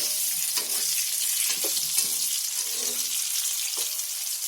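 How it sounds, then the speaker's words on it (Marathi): Potato pieces frying in oil in a pan, a loud, steady crackling sizzle with faint scrapes of stirring now and then, and no talking over it. "बटाटे अशी चांगली तेलामध्ये फ्राय करून घ्यायची 2 मिनिटं"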